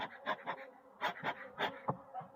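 Honeybees in a damp spring hive, a colony short on food stores, buzz in uneven pulsing bursts, close and fairly faint, with no talking.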